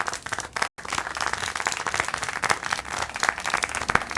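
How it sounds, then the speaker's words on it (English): Applause and clapping in the Syberia The World Before video game, a dense, steady patter of many hands with a brief dropout near the start, continuing at even loudness throughout. "How can you clap?"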